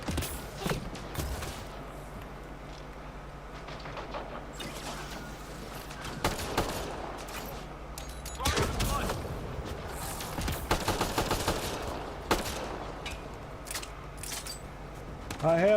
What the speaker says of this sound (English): Who's shooting at me and from where?